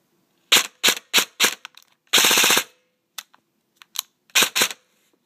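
An airsoft SCAR rifle with a Franken torque motor fires in short bursts and single shots, with a slow rate of fire, one longer burst in the middle, sharp and close with silence between.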